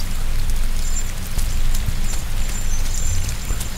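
Rain pouring at night in the video game INSIDE, a dense, steady hiss of drops pattering on surfaces, loud and continuous with slight swells, no talk over it.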